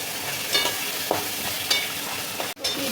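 Sea crabs fry in a pan with ginger paste, a steady close sizzle broken by a few scraping stirs of a spatula, no voices.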